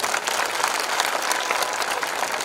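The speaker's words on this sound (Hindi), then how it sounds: "जरा ताली बजा के स्वागत करो।" A crowd at an outdoor public protest rally claps steadily in welcome for arriving politicians, a dense, even wash of many hands with no pause throughout.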